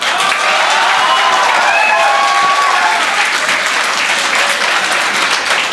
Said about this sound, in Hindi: ज़्यादा तालियां मत बजाओ